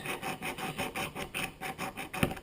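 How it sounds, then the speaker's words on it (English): A magnesium fire-starter block is scraped hard under pressure to raise shavings, giving a quick run of rhythmic rasping strokes, about five per second, close and fairly quiet. "you really got to put some pressure in this to get some shavings"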